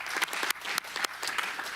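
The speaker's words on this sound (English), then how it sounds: "give them a round of applause for the great work they've been doing" Short burst of applause at a county supervisors meeting, a room of people clapping in uneven waves for under two seconds.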